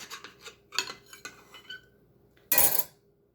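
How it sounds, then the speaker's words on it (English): Knife slicing through pre-sliced Swiss cheese on a board, a few soft scraping taps early on, then one louder, sharper cut near the end, close by and alone. "each slice is going to be cut into 4 pieces"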